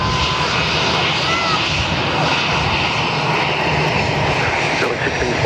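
An Airbus A319-100 arriving at Perth Airport from Newman roars past, a dense, steady jet engine rush that stays loud and broad throughout the few seconds, with voices faintly beneath.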